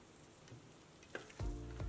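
Hot oil and ghee being stirred into flour with a spoon for spicy khara biscuit dough, a soft steady sizzle with a louder bubbling burst near the end, close and without speech.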